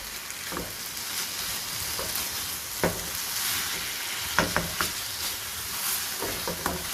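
Spicy chicken sizzles steadily as it fries in a hot pan, with scattered scraping knocks from stirring cutting through the continuous hiss.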